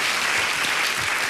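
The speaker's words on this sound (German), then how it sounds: "Ihr dürft nicht klatschen" A brief burst of dense studio audience clapping at a comedy show, steady and loud throughout its short length.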